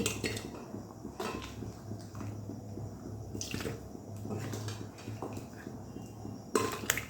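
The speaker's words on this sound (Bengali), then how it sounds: "এই মাংসগুলো আমি একটা প্রেসার কুকারে দিয়ে দেব" Mutton pieces going into a pressure cooker, with close metallic clanks of a spoon against the pot, wet squishing and dripping, over a faint steady low hum.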